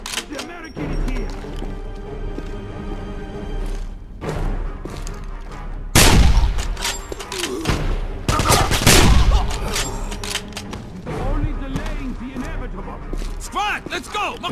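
Gunfire in Wolfenstein (2009) crackles throughout a tense firefight, with scattered shots, loud bursts of heavier fire and explosive cracks around the middle, mixed under frequent shouted speech from characters.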